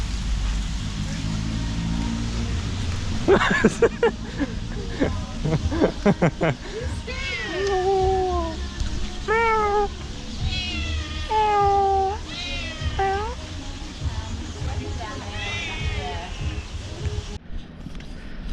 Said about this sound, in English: My cat sounds like that.